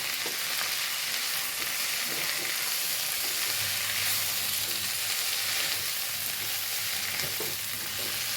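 Chicken and drumstick leaves sizzle steadily in a hot pan as they are stirred, with continuous crackling frying and occasional scraping strokes, close and even throughout.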